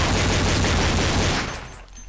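Dense rapid gunfire on a Counter-Strike map, a loud burst of overlapping shots that fades out toward the end.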